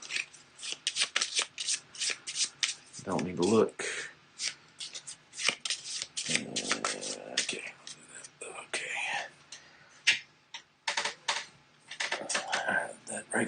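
Arkham Horror location cards being shuffled by hand at a tabletop game, rapid riffling bursts and soft card slaps repeating in short runs, close and crisp, with a quiet voice speaking briefly in between.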